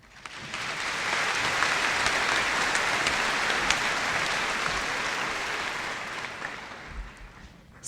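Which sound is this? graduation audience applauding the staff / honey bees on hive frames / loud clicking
graduation audience applauding the staff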